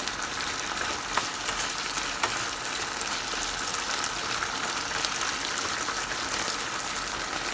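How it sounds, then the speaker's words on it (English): Pieces of pork sizzling and being stirred in teriyaki sauce in a hot pan, a steady bright frying hiss with occasional scraping as it is moved around. "go ahead and stir your pork into the sauce"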